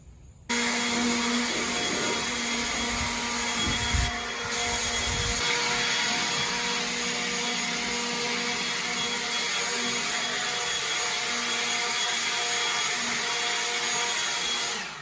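A blower roars on loud and steady, driving dirt, leaf litter and cobwebs out of a shed, starting abruptly and holding a constant droning whine close by.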